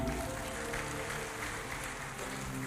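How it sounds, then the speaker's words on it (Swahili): A church congregation applauds, steady clapping forming a dense, even wash of sound that holds for the whole stretch with no clear voices. "wapigieni makofi"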